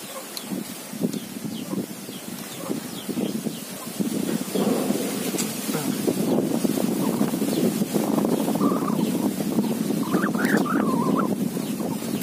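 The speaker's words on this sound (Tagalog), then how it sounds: "Grabe yung hangin." Strong wind blowing across an open farm field in the countryside, a steady broadband roar with gusts that build and stay loud throughout, with no talking.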